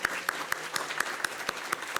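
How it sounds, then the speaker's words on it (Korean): Audience applause at a church anniversary ordination ceremony during a flower bouquet presentation, a steady crackle of many clapping hands with regular louder accents, moderately near and continuous. "뜨거운 박수로 주시기 바랍니다."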